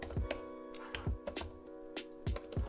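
Faint keystrokes on a computer keyboard as a command is typed, a scattered run of soft clicks over about three seconds, with a constant background hum and no talking.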